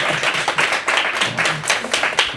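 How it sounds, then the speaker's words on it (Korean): Church book-concert audience clapping with a quick, dense patter of many hands that swells and fades slightly, fairly loud and close, with no speech over it. "박수 한번 하시죠"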